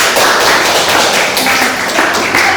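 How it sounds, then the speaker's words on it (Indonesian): A classroom full of students claps as applause for a classmate after a correct answer, a dense, steady patter of many hands at close range that fills the moment without talk. "Beri aplaus untuk Sarwin."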